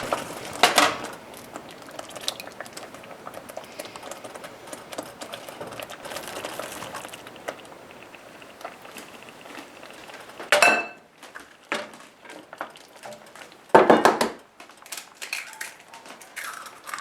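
Clinks and scrapes of a spoon against a baking dish as sauce is spooned over eggs, with a few sharper knocks in a quiet kitchen, mostly close and moderately loud in brief bursts.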